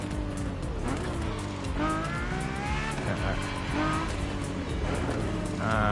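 Car being driven in the racing game The Crew Motorfest near a Ferrari museum, a steady engine drone with rising and falling revs and occasional tire squeal, continuous and loud throughout.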